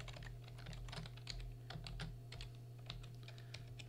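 Rapid, steady keystrokes on a computer keyboard as a property address is entered, a close, quiet patter of clicks over a faint electrical hum with no talking.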